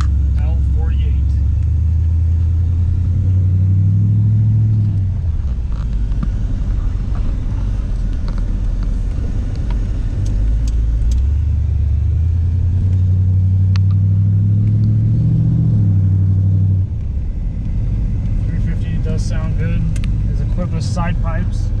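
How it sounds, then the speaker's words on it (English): A 1976 Chevrolet Corvette L48 with side pipes rumbles low and steady, swelling twice into louder throttle surges before settling back toward idle; people talk over the engine throughout. "So it does have a nice rumble at idle and on throttle as well. Great sounding car."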